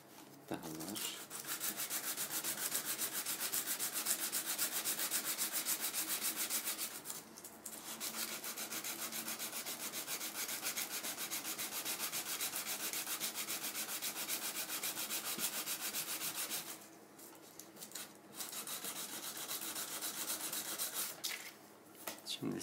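Sandpaper works a wooden model airplane wing in a long run of rapid, regular rubbing strokes, close and soft. The sanding stops briefly twice, then resumes.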